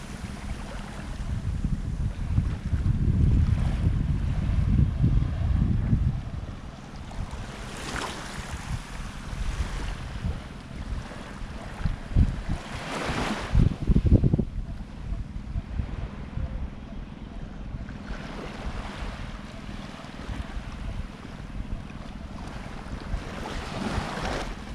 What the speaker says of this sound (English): Kata Beach is very nice.